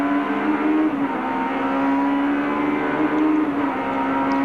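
A touring race car at Eastern Creek screams along at high revs, its engine note dropping sharply with each downshift through the gears, loud and sustained with no voices.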